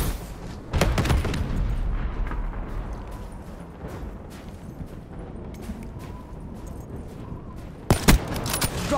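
Hellstorm missile strikes burst in a military shooter video game: two sharp, loud explosive blasts, one near the start and one near the end, framing a long stretch of rumbling, crackling debris and distant noise.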